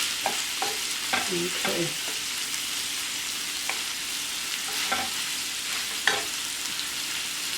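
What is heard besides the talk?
frozen food frying in a pan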